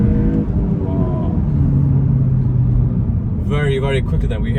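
A Volkswagen Golf GTI Clubsport picks up speed hard, its engine droning and climbing in a steady rising pitch with road rumble underneath, then a voice breaks in near the end.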